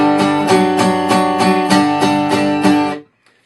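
An acoustic guitar plays two measures of a song, steady strummed downstrokes in an even rhythm, about eight bright chord strikes ringing close and loud before stopping abruptly.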